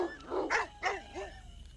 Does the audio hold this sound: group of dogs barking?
yes